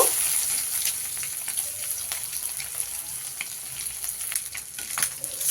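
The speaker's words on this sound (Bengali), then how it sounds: "তেলটা গরম হয়ে যাওয়ার পরে এক এক করে দিয়ে দিচ্ছি ডিমগুলো" Eggs fry in hot oil in a pan, giving a steady close sizzle with scattered sharp pops and crackles throughout, no voices.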